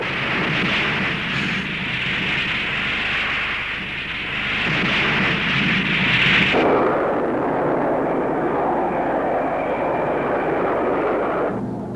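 A McDonnell Douglas F/A-18 Hornet combat jet roars past, a loud, sustained jet engine blast that rises and then abruptly shifts into a lower, steady rumble.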